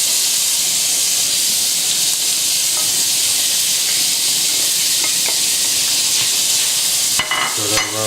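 Tofu and browned onions sizzle in a pan for spaghetti and tofu meat sauce, a loud, constant hissing fry close up, with a few faint scrapes from stirring and clatter near the end.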